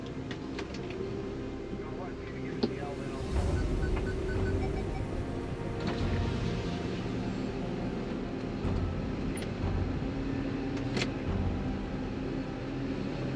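A stranded truck pulls off soft, sucking mud flats with its tyres lowered, a low steady engine rumble that swells after a few seconds and holds constant, with someone talking over it.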